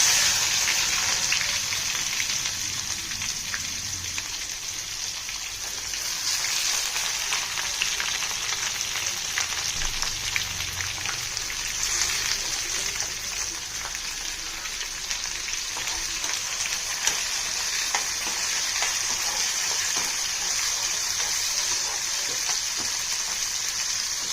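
Onions fry in oil for a Madurai-style mutton pepper curry, giving a dense, continuous crackling sizzle that stays even and close for the whole stretch, with faint stirring underneath and no talking.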